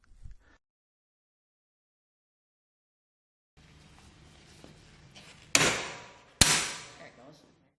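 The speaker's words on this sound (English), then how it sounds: "Position an impact armor on the chisel head and strike it several times with a large hammer" After a long silence and some faint handling noise, a large hammer strikes an impact armor on a Grundomat chisel head twice, about a second apart. Each blow is sharp and rings briefly.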